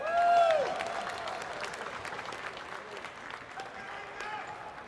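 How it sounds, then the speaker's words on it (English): Audience applause rises as an H1Z1 player walks onto the stage at a TwitchCon 2017 esports invitational, loud at first, then settling into steady clapping and crowd noise with a voice over the top. "Hiko, give everybody a round of applause for Hiko."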